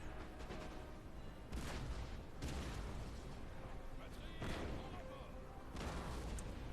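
Repeated deep booms of cannon fire in the video game Napoleon: Total War, several blasts spaced a second or so apart, over a continuous rumbling battle din.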